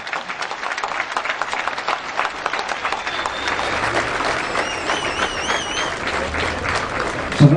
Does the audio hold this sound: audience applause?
yes